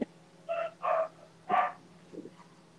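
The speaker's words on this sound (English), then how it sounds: "Now the dogs are starting." Dogs bark a few times at a moderate distance, three short barks followed by softer yips, over a low steady hum.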